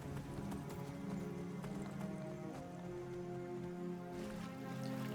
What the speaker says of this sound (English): Definitely need to work on this horse's speed.